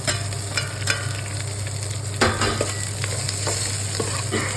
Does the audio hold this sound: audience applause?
no